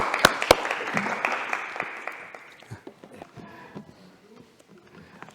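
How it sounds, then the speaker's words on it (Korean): In a Korean church in Berlin, a congregation welcomes the pastor with applause that begins with a few sharp claps, then fades into scattered, thinning claps with faint voices underneath. "우리 나오실 때 우리 박수로 할렐루야로 환영하겠습니다"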